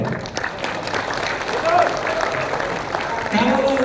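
Audience applause rolls steadily through a crowd at a political rally, a dense continuous patter of clapping that swells slightly near the end.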